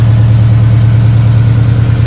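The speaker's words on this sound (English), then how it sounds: "car is alive with the new built engine and the turbo kit. It's running great." A turbocharged Scion FR-S engine with a newly built motor runs steadily at close range, a loud low droning idle with a constant even hum and no other sounds.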